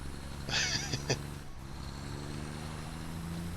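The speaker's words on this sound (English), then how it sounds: "You can hear the turbo there. When you let off the throttle, that's the turbo." A truck in the Satisfactory video game, with a burst of air-brake hiss and turbo whoosh over a steady loud engine drone as the throttle is released.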